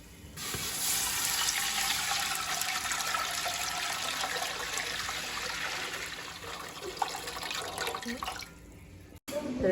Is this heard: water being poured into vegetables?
yes